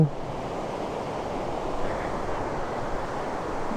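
A strong waterfall pours heavily, a dense steady roar of rushing water that fills the whole stretch at close range, with no voices.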